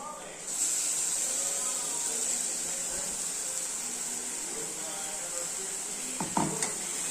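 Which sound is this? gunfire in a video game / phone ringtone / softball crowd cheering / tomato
tomato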